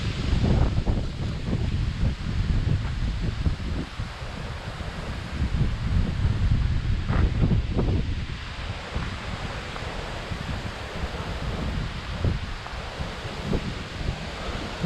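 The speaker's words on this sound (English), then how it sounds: "It's very windy." Strong wind buffets and roars in heavy gusts on a trek to the Kondhane caves near Karjat, Maharashtra, rising and easing over the stretch, with a rough rumble close by and no voices.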